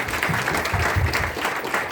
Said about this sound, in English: one round of thunderous applause